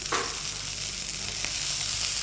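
Beef steak frying in a hot pan gives a steady, close sizzle that stays level throughout, with a faint scrape or stir near the start and no talking.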